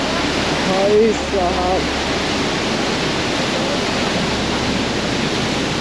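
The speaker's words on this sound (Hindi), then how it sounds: "इतना तेज फ्लो है पानी का। आवाज़ से आप लगा सकते हो अंदाज़ा।" A fast-flowing mountain river on the Rudranath Temple trek in Uttarakhand roars as a loud, continuous rush of water close by, with someone briefly speaking over it.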